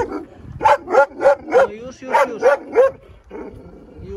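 A dog in Sicily barks about eight times in a quick, uneven run of close, loud yelps with short pauses, and a person briefly says a word.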